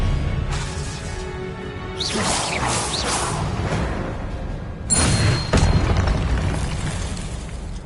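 Magic spells fire in Hogwarts Legacy on PS5: loud swishing whooshes and crashing impact bursts, one surge around the start and another heavy blast later, over a constant rumbling game backdrop.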